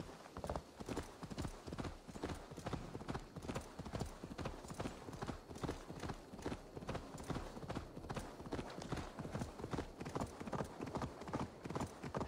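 A horse's hooves trot in a steady, rapid clip-clop rhythm in the video game Assassin's Creed Valhalla, continuous and fairly close throughout, with no talk over it.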